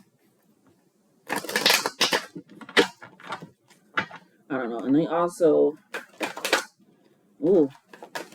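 Tarot cards are shuffled in short, crisp riffling bursts between stretches of someone talking close to the microphone.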